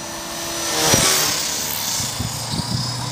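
An EXI 450 radio-controlled helicopter flies with its rotors spinning, a whirring rotor and motor sound that rises and falls with short bursts of rotor slap, fairly close and without speech.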